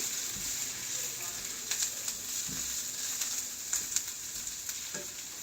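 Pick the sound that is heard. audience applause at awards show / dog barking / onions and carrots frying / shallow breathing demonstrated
onions and carrots frying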